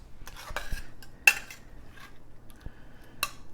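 Thyme is stirred into apples and vegetables in a pan, with a few clinks and scrapes of a utensil against the pan, one sharp clack near the middle and quiet gaps between, no voices.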